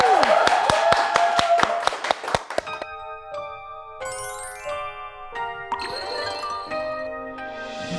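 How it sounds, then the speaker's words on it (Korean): A small studio audience on a talk show claps in a quick, even rhythm for about two and a half seconds, then falls silent as soft melodic instrumental music begins. "박수 쳐 다들."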